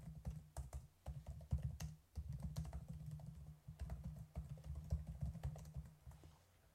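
Steady computer keyboard typing while a Java unit test is written, continuous close clatter of keystrokes with brief pauses, no speech.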